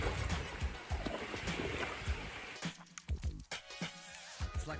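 Paddling a small boat through floating azolla on a lake: broadband watery swishing and rustle in the first half, then several distinct splashy paddle strokes and knocks spaced irregularly, close by with no talking.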